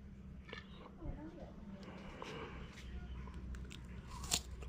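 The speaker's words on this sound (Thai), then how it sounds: "ได้ความกรอบของฝรั่งนะครับ" Crisp guava soaked in plum brine with chili-salt plum seasoning is bitten and chewed up close, giving faint crunches over a low background hum.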